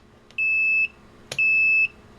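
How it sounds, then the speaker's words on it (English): EEVblog 121GW multimeter giving an over-range indication: two steady, high-pitched electronic beeps, each about half a second long, separated by a short gap with faint clicks, in an otherwise quiet room. "So that's the 121 GW that's beeping"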